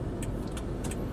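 Steady hum of car traffic on a congested road, a continuous low rumble of idling and slow-moving vehicles with a few faint high clinks over it, no talk.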